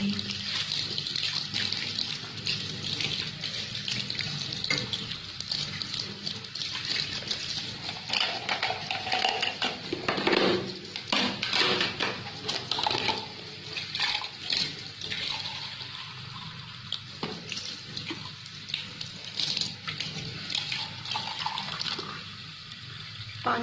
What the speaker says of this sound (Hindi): पानी भी आ रहा है गर्म